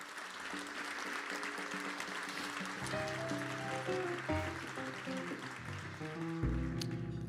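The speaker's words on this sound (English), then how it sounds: "let's pause right there for a round of applause" A leadership breakfast audience gives a round of applause, a soft, distant patter of clapping beneath sustained tonal music, fairly quiet overall and swelling slightly toward the end.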